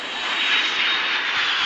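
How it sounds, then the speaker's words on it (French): An airplane engine in a video game drones loud and steady, a dense mid-to-high whine lasting under two seconds with no voices. "Je viens de voir un avion disparaître devant mes yeux."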